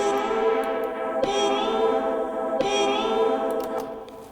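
A sustained synth tone with a vowel-like filtered sweep that repeats twice, washed in reverb and echo, steady and fairly loud with no voices.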